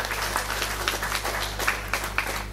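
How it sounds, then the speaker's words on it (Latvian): An audience at the Miss & Misters Ogre 2015 pageant applauds in a steady patter of clapping, moderately loud over a low hum, with no talk. "Aplausiem skanot"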